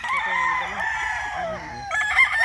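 Gilmore and Boston gamefowl roosters at a game farm crow loudly and up close, with one full drawn-out crow followed by further crowing and clucking from other birds nearby.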